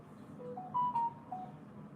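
A faint electronic mobile phone ringtone plays a short melodic sequence of clear tones in a quiet massage room, sounding distant and soft over low background hum.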